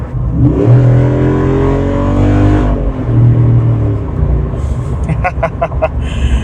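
The V8 engine of a 2024 Jeep Rubicon 392 Final Edition revs loudly up close, climbing and falling in pitch, with a few sharp pops and crackles near the end.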